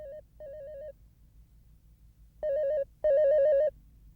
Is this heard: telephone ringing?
yes